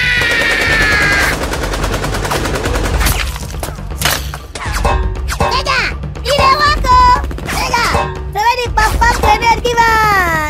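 Staccato gunfire sound effects in a superhero movie, loud bursts mixed with music, shouting and sharp impacts, with voices heard over the action.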